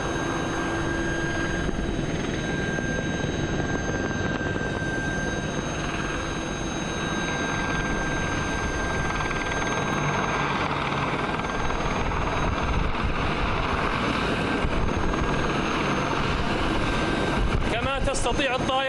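A military attack aircraft flies at an air force display during the Northern Thunder exercise, producing a loud, steady turbine roar with a whining tone that holds throughout as a voice speaks over it.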